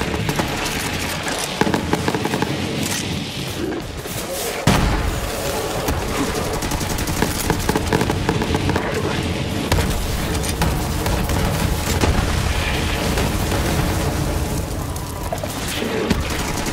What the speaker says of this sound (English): this thing not only is radiation, but those stuck projectiles explode too, causing additional damage